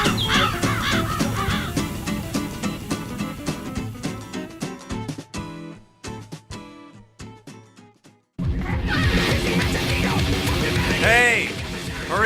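Crows caw repeatedly over a busy mix of music and voices, the calls rising loud and harsh amid the clutter before a brief quiet gap.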